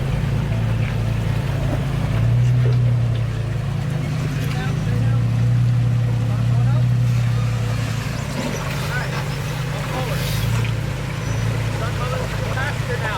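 The engine of a modified Toyota FJ Cruiser drones steadily while it crawls over rocks off-road, a low continuous hum with slight swells in load. Someone talks over it throughout.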